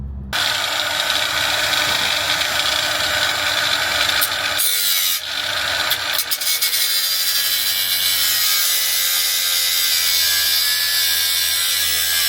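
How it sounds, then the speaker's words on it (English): Power cutting tool slicing off the lip of a Lexus car fender along a marked line, a loud continuous high-pitched grinding rasp with a brief dip partway through, close up and without talk. "So we just need to cut along this line and try to keep it pretty."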